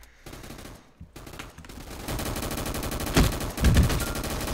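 Gunfire in the Roblox game Gunfight Arena, loud rapid bursts of shots that grow denser and heavier partway through, after a brief quieter start.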